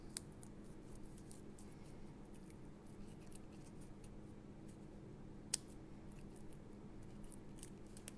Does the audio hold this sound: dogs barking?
no